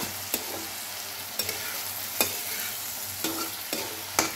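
Turmeric and ginger frying in hot oil, stirred with a utensil: a steady close sizzle broken by about seven sharp scrapes against the pan at irregular intervals.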